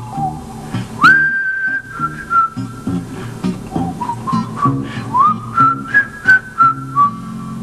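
A person whistles a tune alone before a song, clear and close, starting with a long held note, then a run of short rhythmic notes rising and falling in steps.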